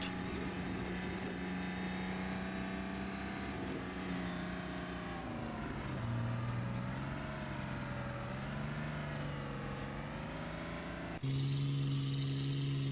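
Steady in-cab engine drone of a tractor in Farming Simulator 2013, rising and falling gently with load and switching to a louder, brighter tone near the end, with no talk.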